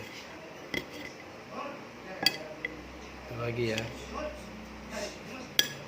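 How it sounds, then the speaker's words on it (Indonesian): A knife cuts shallots on a plate, giving a handful of sharp, scattered clicks and clinks against the dish while someone talks over them nearby. "Ini saya motong di atas piring."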